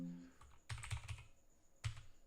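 Quiet, close clicks of a computer keyboard come in two short clusters of keystrokes separated by a pause, over a faint steady hum.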